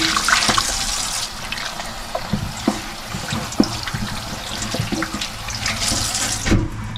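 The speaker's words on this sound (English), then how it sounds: "Rinse the cavity out really well." Running tap water pours and splashes steadily into a sink while a butchered homestead chicken's cavity is rinsed out, with occasional knocks and handling sounds over the continuous flow.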